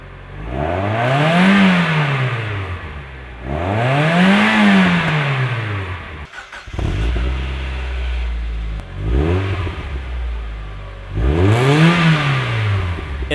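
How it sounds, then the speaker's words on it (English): A Mazda Miata exhaust revs in repeated rising and falling sweeps, first through the stock muffler and then through a Flying Miata muffler, loud and close with no talking. "here's a clean recording of a before and after comparison with the stock muffler and the Flying Miata muffler"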